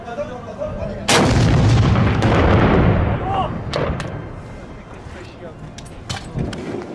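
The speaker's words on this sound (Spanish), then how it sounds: "sacando la artillería pesada" Heavy artillery fire in a war setting in Syria opens with a loud booming blast about a second in, followed by a long rumbling roar and scattered sharp reports, with voices faintly audible underneath.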